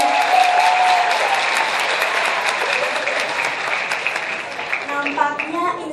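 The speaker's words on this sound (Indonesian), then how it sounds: "Ya, tepuk tangan buat semuanya." Sustained audience applause at a university dialogue event, dense and steady throughout, with a few voices and brief tonal sounds emerging near the end.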